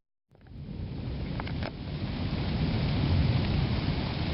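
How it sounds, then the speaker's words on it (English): A July summer morning thunderstorm brings steady rain hissing over everything, with a soft rumble of thunder rolling in the background and the downpour growing slightly heavier as it goes on. "A July morning thunderstorm."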